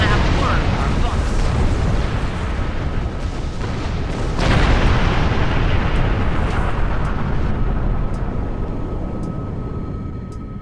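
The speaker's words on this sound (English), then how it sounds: "I was distracted by the explosions" Explosions roll out in a science-fiction space battle, a continuous loud broadband rumble with a sharp heavier blast near the middle and a steady drone holding underneath, with voices talking over the din.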